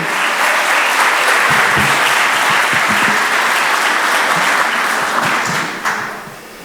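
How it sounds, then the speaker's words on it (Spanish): Loud, dense applause from a crowd, steady for several seconds before tapering off near the end. "Lo recibimos con este aplauso"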